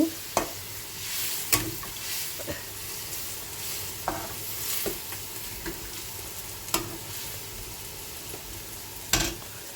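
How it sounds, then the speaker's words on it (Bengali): Bitter gourd and pumpkin pieces fry in a pan, a quiet, steady sizzle broken by sharp clacks of a spatula stirring at irregular intervals, with no voices. "এদিকে উচ্চটা ভাজা হচ্ছে"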